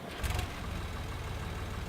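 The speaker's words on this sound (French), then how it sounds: "je vais vous le mettre en route vite fait." Ursus 5044 three-cylinder micro-tractor, roughly sixty horsepower, in a farming video game mod, turning over and settling into a steady low idle that rumbles continuously on its own throughout.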